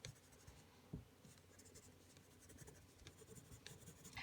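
Coloured pencil shades paper at medium pressure with a steady, dry scratching hiss and small scrapes of strokes, close and quiet, without talk.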